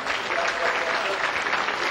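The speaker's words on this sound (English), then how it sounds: "the control center is full. People are applauding" Steady, full applause from a packed space mission control room after the Soyuz TMA-15 spacecraft docks with the ISS, continuous clapping at moderate level with no speech over it.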